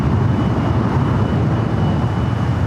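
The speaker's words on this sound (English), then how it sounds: "You have an A380 lighting up, Asiana Airlines flight 201, flight heading back to Seoul." Asiana Airlines A380 jet engines spooling up for a north-side takeoff at LAX, a steady, loud, broadband roar with heavy low rumble that holds constant throughout, no voices present.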